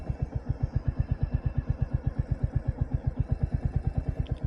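A Royal Enfield Hunter 350 motorcycle idles nearby during an early-morning village ride, its single-cylinder engine thumping in a steady, even beat without any talk.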